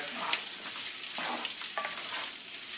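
Green onion, garlic and bacon fry in bacon fat and butter over high heat, a bright, constant sizzle with a few stirring scrapes, close and alone.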